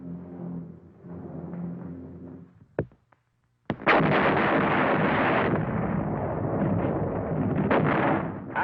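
Wartime artillery fire at the Battle of San Pietro in Italy, 1943: a sudden heavy blast breaks a short silence, then a loud sustained rumble of continuous barrage follows, preceded by a low droning passage.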